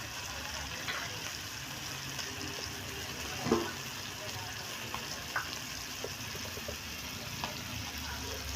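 Semolina-coated bangda fish fry in a pan with a constant, quiet sizzle, and one louder clatter midway as a piece is flipped.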